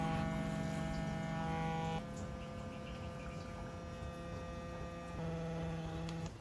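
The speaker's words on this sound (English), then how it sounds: "Here's a demonstration of how the brush vibrates in each of the different modes." A Marchpower 2-in-1 electric toothbrush buzzes as it steps through its vibration modes, a close steady electric hum whose pitch and strength shift at each mode change, with no talk.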